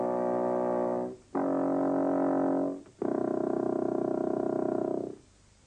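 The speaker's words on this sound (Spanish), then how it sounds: "¿Sabéis que el fagot tiene un hermano mayor? El contrafagot." Deep, sustained low notes from a contrabassoon in three long held tones, each lasting over a second with brief gaps between them, played alone and close.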